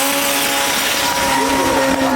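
A wide-body, turbocharged Toyota Stout truck built for ice racing drives past at Goodwood Festival of Speed, with a loud, continuous engine roar and whining tones, close and without talk.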